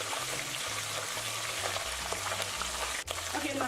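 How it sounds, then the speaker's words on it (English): Fermented fish (momone) frying in palm oil in a pan while making Ghanaian okra stew, giving a steady close sizzle and crackle throughout with no talk. "Now I'm putting my palm oil in the pan."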